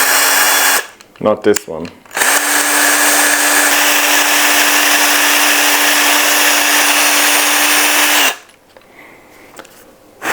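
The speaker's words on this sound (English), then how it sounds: "let's drill a hole then after all" A power drill whirs steadily for several seconds, loud and close, after a brief spoken remark; a voice returns faintly once it stops.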